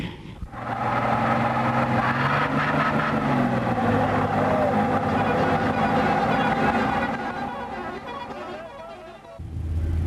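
A car's engine drones steadily from inside the vehicle during a drive in a Pakistani TV drama, a loud, continuous hum that fades briefly near the end.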